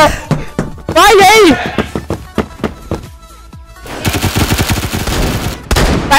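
Rapid pistol shots crack out in quick, uneven bursts in the Roblox game Phantom Forces, loud and close, with an excited voice shouting over part of the firing.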